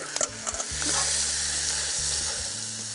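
Steak dropped into a pan already frying salami and onion: a few knocks, then a strong, close, steady sizzle that swells and holds, with a low hum underneath and no speech.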